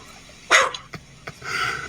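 A sheepdog guarding a flock gives a single sharp bark followed by a few softer yips and whimpers, fairly close, with no talking.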